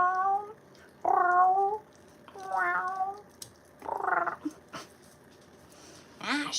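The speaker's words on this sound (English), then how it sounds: "Hear the cat?" A house cat meows several times in a kitchen, drawn-out tonal cries spaced across a few seconds, fairly close and clear over quiet room noise.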